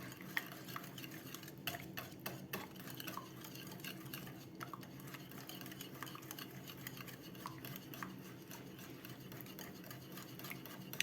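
A spoon stirring and mashing tomato paste in a pot while cooking a lamb rib stew, giving quiet, continuous scraping and light clinks of utensil against the pot at close range.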